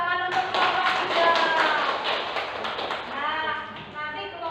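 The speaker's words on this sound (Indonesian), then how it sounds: "Beri tepuk tangan untuk kelompok 3." Classroom students clap for a winning group, a brief patter of hands under a teacher's voice that continues talking throughout.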